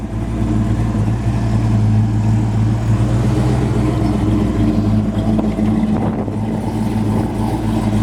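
A 1972 Chevrolet El Camino SS tribute with a fuel-injected 454 V8 and automatic transmission runs steadily close by, giving off a deep, even idle rumble with no revving.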